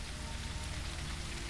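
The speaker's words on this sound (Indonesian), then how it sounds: "Hujannya deras sekali." Heavy rain pours steadily in the survival video game Surroundead, a dense, continuous hiss with a low rumble, close and loud, with no other sounds.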